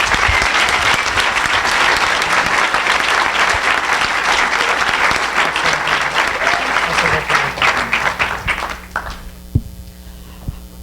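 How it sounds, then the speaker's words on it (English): Audience applause for event volunteers at a 100 State gathering, a dense, sustained clapping from a sizeable crowd that carries on for about nine seconds, then thins out into a few scattered claps over a low steady hum. "Please give our volunteers a round of applause."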